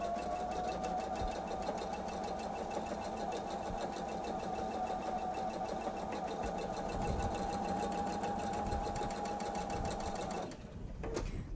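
A sewing machine runs continuously for about ten seconds while stitching a long piece of fabric for a bench pillow, starting right off the fabric's edge, then stops abruptly near the end.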